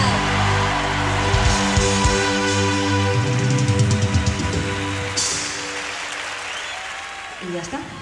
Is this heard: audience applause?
yes